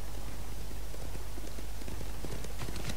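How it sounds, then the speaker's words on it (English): Horse galloping in the Ghost of Tsushima video game, rapid, loud, rhythmic hoofbeats close up and continuous over a dense background. "What are you doing, horse?"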